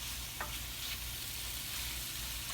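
Chicken cooking in a pan for Haitian chicken with cashew, a steady low sizzle and frying hiss running throughout with a faint clink near the start, no voices.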